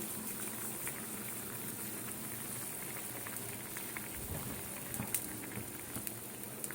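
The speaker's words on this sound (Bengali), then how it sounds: "ঝোলটা ফুটে গেছে" A pot of curry gravy for jackfruit kofta curry bubbling at a steady simmer, a faint continuous soft popping and gurgling with no voices.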